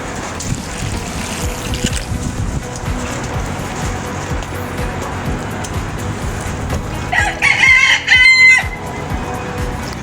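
Chickens cluck and chatter continuously, then a rooster crows loudly near the end.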